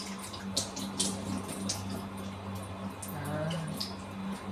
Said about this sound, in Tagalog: I-drain lang natin siya guys para hindi siya masyado